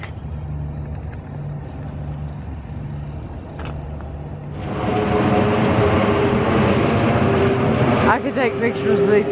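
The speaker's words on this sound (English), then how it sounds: "I could take pictures of these planes flying all day long because it's constant" Airplanes passing overhead in London near Windsor Castle, a low droning engine rumble that swells into a louder, broader roar midway and stays close and loud to the end.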